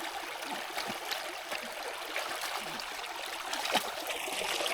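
A small stream in the Scottish countryside flows and trickles steadily, a soft continuous wash of water that is close but fairly quiet, with no voices.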